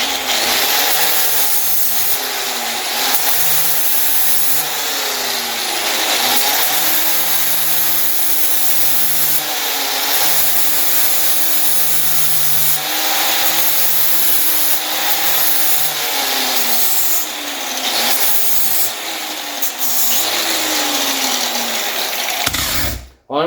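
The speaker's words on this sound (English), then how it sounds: "our next step here is going to be grinding down the spot weld" An angle grinder grinds down a spot weld during a U-joint replacement, a loud continuous rasping whine lasting over twenty seconds with slight pitch dips as pressure on the metal changes, then cutting off abruptly.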